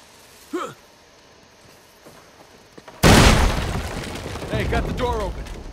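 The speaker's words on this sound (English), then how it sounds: "Hopefully we just blend in with the other explosions." Explosions and gunfire in the video game Uncharted 4: a sudden loud blast hits midway, then a sustained rumbling roar with scattered cracks and debris, after a quieter stretch with a brief voice.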